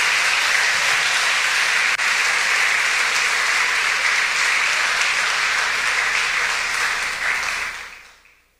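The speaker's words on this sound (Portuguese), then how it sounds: "Dá um aplauso ao Senhor" A church congregation breaks into sustained, dense applause, steady and loud for about seven seconds before quickly fading out, with no voices on top.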